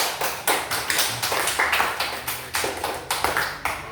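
A classroom group of students claps in appreciation for a group that read out its discussion results, sharp close claps in a loose, uneven rhythm, about a dozen distinct bursts, with no talk over them.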